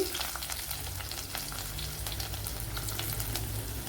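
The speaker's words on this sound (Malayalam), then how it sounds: "ഇപ്പോഴും നമ്മുടെ ഓയിലും ഉലുവയൊക്കെ ഇവിടെ മൂത്ത് വന്നിട്ടുണ്ട്" Fenugreek seeds and garlic fry in hot oil for a Kerala kingfish chili curry, giving a dense, even, close sizzle with a steady crackle and no talk.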